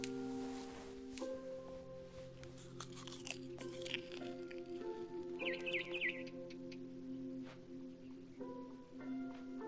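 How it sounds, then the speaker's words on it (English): Brief birdlike chirps of a barn swallow outside a window in the game What Remains of Edith Finch, heard amid steady sustained music tones and some crunchy chewing-like sounds. "It was a barn swallow going back to her nest."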